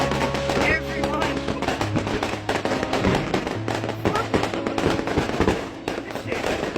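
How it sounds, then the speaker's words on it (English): Fireworks and firecrackers burst continuously across suburban backyards in Western Sydney, dense crackling pops near and far, with people talking over them. "Like every backyard has fucking fireworks in it."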